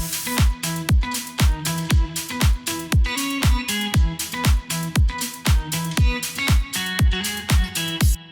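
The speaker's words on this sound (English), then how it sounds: "And for the drop, I have a guitar melody." Guitar melody for the drop of a melodic summer pop song, played as a steady run of sharply plucked notes in an even repeating rhythm over low tones, close and fairly loud with no voices.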